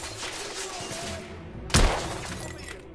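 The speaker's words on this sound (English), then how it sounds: "I just shot his hat off." A single sharp gunshot from a firearm in The Order: 1886 cracks out loud and close, standing alone against a steady layer of game background noise.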